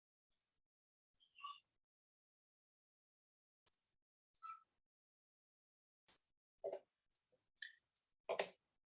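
Sparse, crisp computer mouse clicks sound one at a time and in small quick clusters against near silence while a presentation slide is being made.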